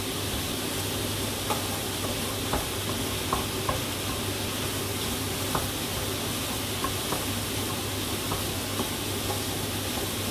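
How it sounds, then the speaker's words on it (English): Steady sizzling and hissing from mushrooms frying in a pan, with faint stirring scrapes and clicks scattered throughout, continuous and fairly close. "Let's stop the sizzling a little."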